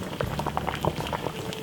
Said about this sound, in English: as you can see, boiling out hell right there.